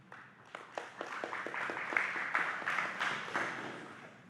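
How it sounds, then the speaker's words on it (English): Modest applause at a city council community forum on flavored tobacco, starting as a few distinct claps that quickly build into a soft, steady patter from a small seated audience, heard from a distance. "Please give a round of applause to John Dixon"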